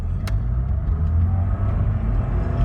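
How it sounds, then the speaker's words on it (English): 1985 BMW 318i with an ENSA exhaust pulling away, a close low burbling engine rumble with a brief click near the start, steady and without talk. "so that makes a nice burble. Gives it a little bit of sound out of what's normally a pretty quiet exhaust on this car."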